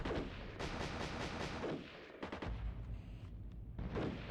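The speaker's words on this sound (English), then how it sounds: "Ah, it's my AA gun" An anti-aircraft gun fires in the Armored Brigade II wargame, set in Scandinavia, as rapid repeated bursts that land in quick clusters. The shots are loud and close, with a short lull before the firing picks up again.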